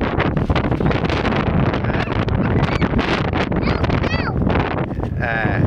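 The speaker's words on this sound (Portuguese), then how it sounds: "É o vento." Strong wind buffets the microphone outdoors in a constant roaring rush, with people talking over it throughout.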